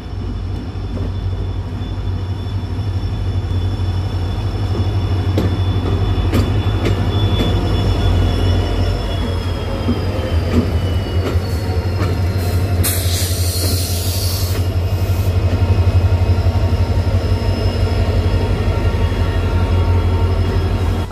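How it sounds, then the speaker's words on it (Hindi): The Jammu Tawi–Jaisalmer Shalimar Express pulls into a station platform: a loud, continuous low rumble of wheels and coaches, thin wheel squeals, and a brief hiss partway through, with no talking. "सामने से आ रही है जम्मू तवी जैसलमेर शालीमार एक्सप्रेस"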